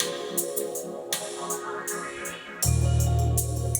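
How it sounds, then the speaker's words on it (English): A hip-hop beat with bells and drums gains a tambourine, bright jingling hits riding the rhythm, before a deep sustained bass swell enters and fills the low end for the last second. "Next part, add a tambourine."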